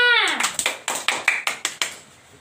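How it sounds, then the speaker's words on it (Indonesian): Children in a Quran recitation lesson clap together in a brisk rhythmic pattern of about nine sharp, close claps, following a brief voice at the start. "tepuk tangan untuk Dina."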